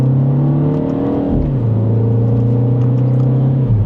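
A 2026 Mini JCW 2 Door with dual-clutch gearbox pulls hard in second gear, engine drone rising steadily, a quick shift dropping the pitch midway, then climbing again, loud from inside the cabin.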